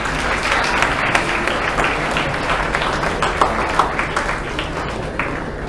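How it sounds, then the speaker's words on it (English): Applause from delegates at a Model United Nations closing ceremony, a dense crowd clapping steadily with a few sharper claps standing out. "A big round of applause for yourselves"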